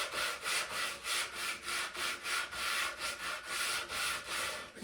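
Sandpaper worked by hand over a furniture finish between coats, giving a steady back-and-forth rubbing rhythm of about two strokes a second, close and moderately loud, with no talking.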